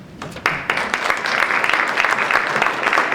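An audience at a high school alumni awards ceremony breaks into applause, with a few scattered claps swelling into steady, full clapping that carries on to the end.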